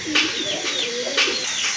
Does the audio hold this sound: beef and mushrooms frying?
no